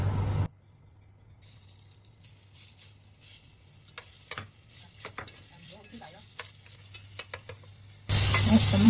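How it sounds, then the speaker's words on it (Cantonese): Oil hits a wok heated to about 200 degrees, first some quiet scrapes and light ticking, then a sudden loud, hissing sizzle bursts out near the end. "咁啊可以落油啦。"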